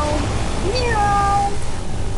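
A person's voice imitates a cat meow, a single drawn-out rising then falling mew lasting about a second, loud and close over a steady background hum.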